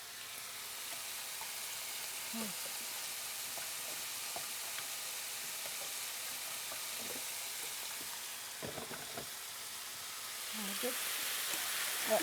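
Chicken broth soup coming to a boil in a pot, a soft steady bubbling hiss with faint scattered pops and a few light clinks, no talking.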